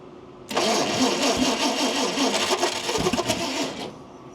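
A 1953 Kaiser Manhattan engine cranks and catches, a loud close churning start that runs for a few seconds before cutting off abruptly, with no talk.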